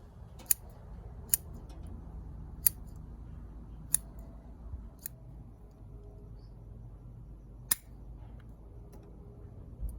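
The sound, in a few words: trimming Hinoki cypress bonsai roots with scissors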